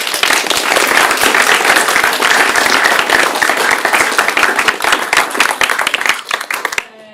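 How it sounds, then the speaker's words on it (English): An audience at a scientific general meeting gives a sustained round of applause, dense and steady for about six seconds before thinning out, with no talking over it. "So let's give a round of applause to KVH."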